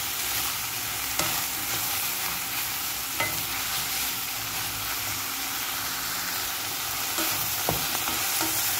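Mushrooms and mixed vegetables sizzle and fry in a pan while being stirred, a steady close hiss with occasional scraping clicks of the spoon throughout.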